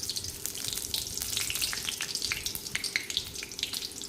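Oil crackles and sizzles softly as dried chillies and a bay leaf fry in a pan, with quick irregular pops and no talking.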